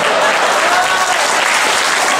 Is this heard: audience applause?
yes